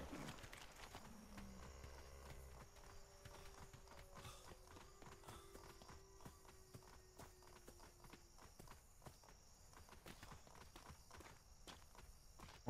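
Horses clip-clop along at a steady walking pace in the survival game Atlas, hooves distinct and fairly close, with a faint tonal whine and little talk.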